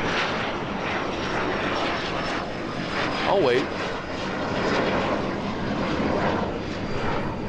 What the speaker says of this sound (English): This neighbor's about to call security on that jet going by.